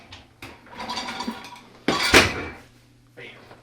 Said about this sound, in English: he is now loading his lunch dishes into the dishwasher